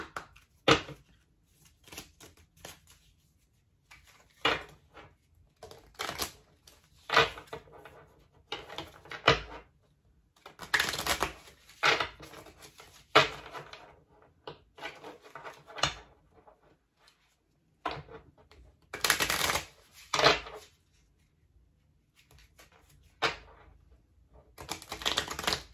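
Tarot cards are shuffled and drawn in a quiet room, with irregular bursts of riffling, flicking and soft slaps of cards scattered across the clip. No voices are heard.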